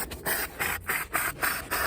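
A brush scrubs back and forth over shampooed car carpet in steady rhythmic strokes, about six abrasive rasping passes in under two seconds, close and fairly loud with no talking.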